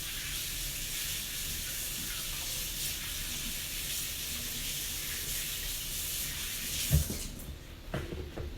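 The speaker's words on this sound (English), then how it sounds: "Let me wash my hands." Steady broadband rush of tap water running while hands are washed at a kitchen sink during dessert making, continuous for about seven seconds before a brief clunk and the flow cutting off.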